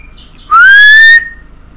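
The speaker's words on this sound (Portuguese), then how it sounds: "Cacete de passarinho, cala a boca." A single loud bird chirp in the Arma 3 video game, a rising whistled tone lasting under a second, standing alone over quiet ambience.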